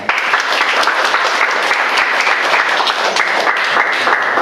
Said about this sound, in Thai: ไม่ปรบมือให้หน่อยนะครับ